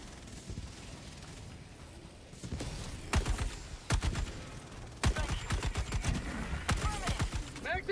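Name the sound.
gunfire from a video game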